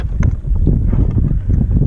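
Strong gusty wind across a lake heard from a kayak during a bass fishing tournament, a loud close buffeting rush on the microphone with faint knocks mixed in, no talking.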